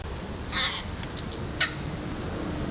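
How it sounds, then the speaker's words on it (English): Crows calling outdoors, two short harsh caws about a second apart, moderately near over a steady background hiss. "And these crows are waiting their turn."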